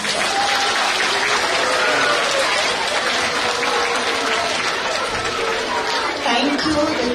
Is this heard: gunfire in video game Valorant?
no